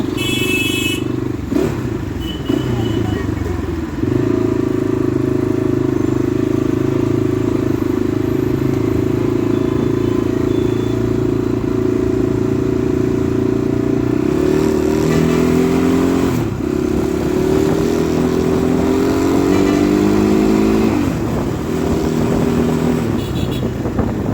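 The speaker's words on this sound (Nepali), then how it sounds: "इन्डिया छिर्ने बित्तिकै जाम लाग्न लाग्यो हाइवेमा चाहिँ अब" Engines rumble and rev in a traffic jam on a highway near the India-Nepal border, with loud, close motorcycle and car motor drones that rise and shift in pitch, and occasional clatter.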